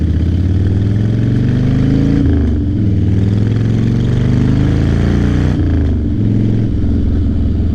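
A Harley-Davidson Fatboy motorcycle engine rumbles steadily while riding on an empty early-morning street, loud and close throughout, with its low tone dipping and rising twice as the rider shifts or eases off the throttle.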